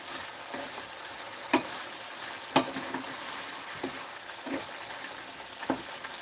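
Sirloin steak bites fry in garlic butter with a steady low sizzle, broken by a few sharp pops and clicks spaced irregularly through the pan noise.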